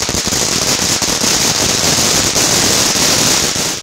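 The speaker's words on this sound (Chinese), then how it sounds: "一早部落就有热闹的鞭炮声" Firecrackers in a village burst in a dense, continuous crackling string, loud and near, filling the whole span before cutting off abruptly at the end.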